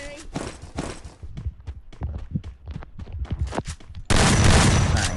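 Rapid bursts of gunfire in a first-person shooter game crackle in quick succession, with talking mixed in, then a dense burst of noise fills the end.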